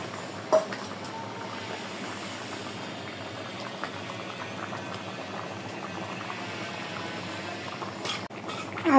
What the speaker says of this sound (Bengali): তরকারিটা ফুটে উঠলে তারপরে